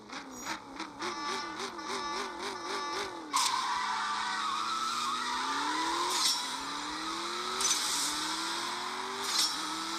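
A Camaro drag races in the mobile game CSR 2, its engine climbing through quick rev sweeps and gear shifts, then a long rising pull with more upshifts and bursts of noise over a steady, loud game mix.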